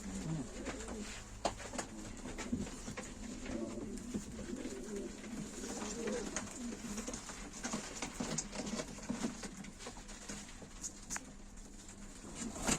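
Pigeons cooing and fluttering at a live pigeon auction, with repeated close coos, feather patter and scratchy movement running throughout at moderate level.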